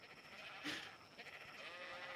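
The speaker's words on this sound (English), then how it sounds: "he's gonna hear all the sheep noises" A sheep lets out a single brief bleat in the survival game Ark Survival Evolved, heard over a steady ambient game background.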